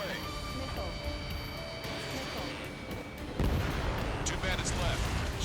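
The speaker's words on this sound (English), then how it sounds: "Missile away." Missile launches and explosions from the Ace Combat 7 video game roar over continuous jet engine noise, with a heavy blast bursting in partway through, loud and dense.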